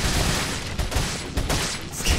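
Rapid automatic fire from a TMP submachine gun in the video game Resident Evil 4, a dense rattling burst running steadily through the whole stretch with a few louder cracks standing out.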